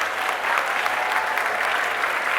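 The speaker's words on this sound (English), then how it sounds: "give a big round of applause to the students of Atharva" Steady, dense applause from an audience fills the hall at a university tech festival inauguration, a continuous wash of many hands clapping with no voices over it.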